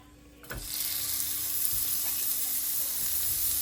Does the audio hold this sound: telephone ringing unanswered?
no